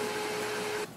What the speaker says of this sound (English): The printer is doing the initial setup, it will make some loud noises for a minute